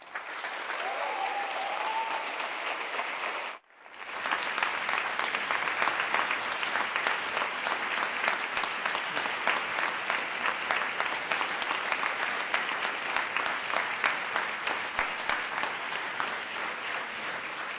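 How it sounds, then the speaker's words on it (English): Sustained audience applause at a refugee-system conference, dense and steady for several seconds, briefly cutting out near the start then resuming loudly and evenly until the end. "A big applause for Dr."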